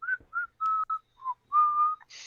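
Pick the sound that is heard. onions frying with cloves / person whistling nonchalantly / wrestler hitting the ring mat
person whistling nonchalantly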